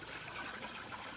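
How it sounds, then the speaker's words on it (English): Water runs steadily into an aquarium sump, topping off an aquaponics system with a 1,000-gallon fish tank inside a hoop house; a continuous close trickling gush with no talk. "I've got water to fill up my sump tank to kind of top things off"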